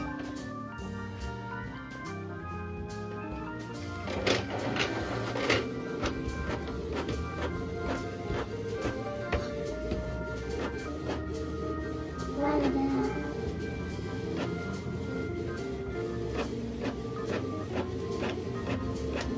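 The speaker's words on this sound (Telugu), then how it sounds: "ఓకే, జిరాక్స్ అనేది వర్క్ అవుతుంది." A Canon Pixma E470 multifunction printer making a copy, steady mechanical whirring with rhythmic feed clicks and motor pulses running close and continuous for the whole stretch.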